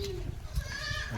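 A goat bleats briefly at home amid low background murmur and faint rustling, the call short and moderately close.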